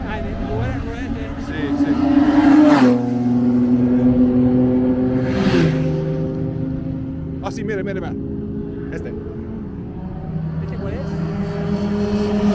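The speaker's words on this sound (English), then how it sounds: "Super loud Honda." A super loud Honda race car at a track day in Buenos Aires, Argentina, its engine droning with rising and falling revs at close range while people talk over it.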